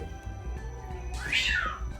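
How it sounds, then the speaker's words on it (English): A cat outside gives a single rising and falling yowl, a crying caterwaul about half a second long, heard at a moderate distance over low room rumble. "Cats going crazy outside."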